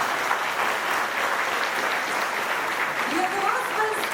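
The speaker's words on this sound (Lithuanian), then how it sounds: "Aplodismentai." An audience at a concert in the Pabradė town culture centre gives steady, sustained applause. A faint voice surfaces near the end.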